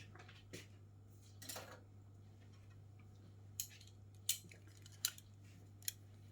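Scissors snip the loose ends off a tied knot on a protection jar made with mugwort and wormwood, a few sharp close cuts spaced apart over a quiet hum.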